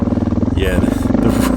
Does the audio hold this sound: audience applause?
no